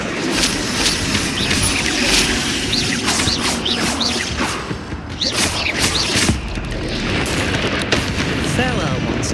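Repeated fire-spell casts in the video game Hogwarts Legacy burst out as loud whooshing blasts amid a busy fight against spiders, with booming impacts and high chittering cries throughout.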